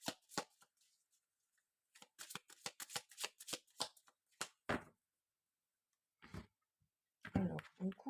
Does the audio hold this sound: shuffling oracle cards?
yes